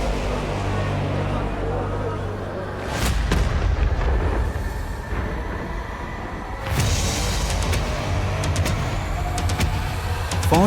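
Cinematic gunfire and missile effects for an epic trailer thunder as deep rumbling booms and blasts under a sustained low drone, with two heavy surges and crackling impacts.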